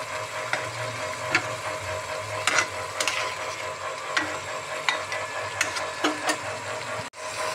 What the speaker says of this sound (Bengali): এটা মশলাটা একটু ভাজা ভাজা হোক